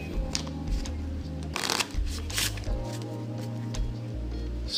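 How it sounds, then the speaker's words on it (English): A spectator shuffles a deck of playing cards during a magic trick, sounding as close, crisp riffling bursts of flicking cards separated by quieter handling and low background hum. "And then we ask them to shuffle the cards."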